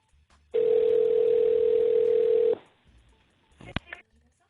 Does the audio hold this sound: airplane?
no